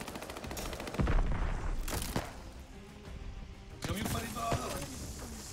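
Call of Duty: Vanguard multiplayer gunfire rings out in sharp, loud shots and short bursts, spaced irregularly across the moment, with players talking over it.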